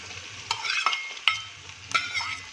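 Tomatoes added to softened onions in a pan for a Gujarati radish-greens dish: a soft sizzle broken by several sharp spatula scrapes and clacks, close and unvoiced.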